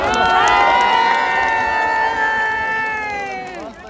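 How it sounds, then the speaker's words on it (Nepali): A crowd cheering and shouting with children's voices mixed in, at an outdoor gathering where an elephant helps tie a festive garland to a pole: a loud sustained roar of voices that slowly fades out. "सम्पूर्णले ताली बजाउनु"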